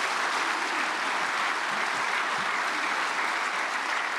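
A church congregation claps steadily and loudly for a visiting pastor, a dense, even wash of applause lasting throughout with no voices over it.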